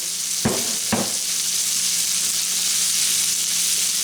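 Onions sizzling in hot fat in a pan for a cabbage roll filling, a steady loud hiss throughout with two brief knocks near the start.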